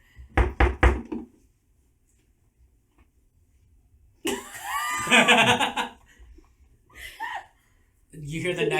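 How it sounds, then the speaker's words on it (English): A rapid run of three or four sharp knocks on a door, performed during a tabletop roleplaying game session, comes first, followed by silence, then laughter and voices of the players. "Or are you just knocking?"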